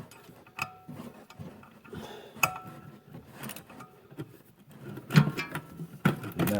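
A caliper bracket is unscrewed from the front brakes of an Audi A6, close irregular metallic clicks, ratcheting ticks and knocks of tool on metal with quiet gaps; no one talks.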